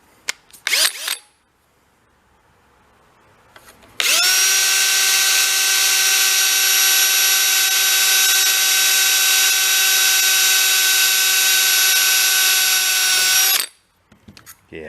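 A power drill whose variable speed has failed runs at a single steady full-speed whine for about ten seconds, close and loud, after a few brief bursts; used on a Yamaha Kodiak ATV repair, no talking.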